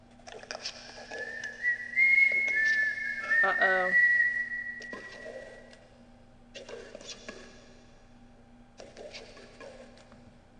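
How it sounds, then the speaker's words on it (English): A thin, high whistle rises and falls in a short tune, then fades. A voice speaks briefly under quiet room noise. "Who the fuck's whistling?"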